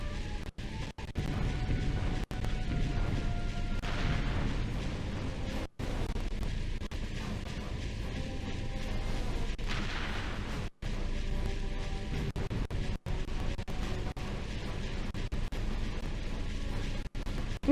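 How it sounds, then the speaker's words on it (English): A turret blasts away at ships in Ratchet & Clank, with a steady low rumble of engines under repeated sharp impact bangs and crashing explosions scattered through, mid loudness and continuous. "Time to hop into the turret and blow me up some ships."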